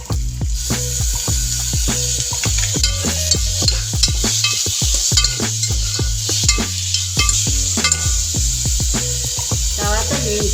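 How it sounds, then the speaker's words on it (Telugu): Onions and ginger-garlic paste fry in a pan for vegetable biryani, giving a steady sizzle with frequent clinks and scrapes of stirring. A low sustained hum and a few tonal notes run beneath throughout. "బాగా ఎర్రగా వేయాక ఉల్లిపాయ, తర్వాత అల్లం వెల్లుల్లి పేస్ట్ వేయాలి"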